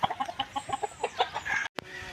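Chickens cluck and call in a rapid string of short notes close by outdoors, with one longer strained call near the end and a brief pause before the sound resumes.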